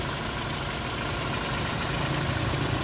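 A 2019 Toyota Innova G with automatic transmission idles quietly and evenly, a steady low engine hum with faint vibration that holds throughout with no talking.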